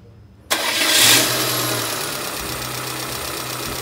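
Car engine turning over and catching after alternator and fuel pump servicing, a sudden loud start settling into a steady close idle.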